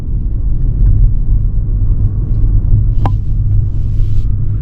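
A 2025 BMW 330i four-cylinder sedan driving in sport mode gives a steady, loud low engine and road rumble throughout, with one brief sharp click partway in.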